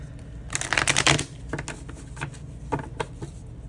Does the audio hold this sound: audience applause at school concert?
no